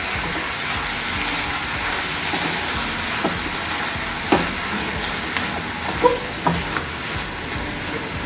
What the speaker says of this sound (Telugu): ఇప్పుడు ఆయిల్ అంతా కూడా పైకి వచ్చేసింది కదా, ఈ ఆకుని వేసుకోవాలి. ఇది ఒకసారి కలిపేసుకోవాలి.